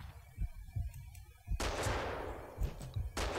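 Gunfire in the Max Payne 2 video game: a few sharp separate shots, then a loud dense burst of rapid fire that swells and carries on, with more bursts near the end.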